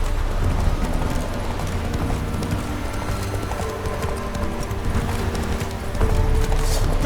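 Roach, Geralt's horse in The Witcher 3, galloping hard, a steady rapid clip-clop of hooves close by, running continuously under a layer of ambient game sound, with a brief whinny-like tone near the end.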